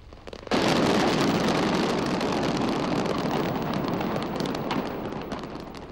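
Fireworks exploding in containers at a burning fireworks factory, a sudden loud onset into a dense, continuous crackling roar of rapid bursts that slowly tapers off.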